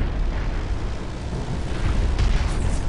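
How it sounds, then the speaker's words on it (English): Gunfire and explosive booms from the mech combat game Hawken form a dense, continuous low rumble of rapid shots and blasts, loud and steady with no talk over it. "I hear gunfire."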